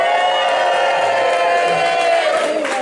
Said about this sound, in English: Can we have a round of cheering?